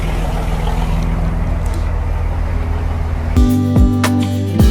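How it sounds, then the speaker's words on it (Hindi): A ferry's diesel engine rumbles low and steady on the boat crossing to the Elephanta Caves off Mumbai, joined late by a sharper mechanical drone with a rising and falling whine that rings out near the end. "तो ये बोट लेके जाएगी हमको एलिफेंटा"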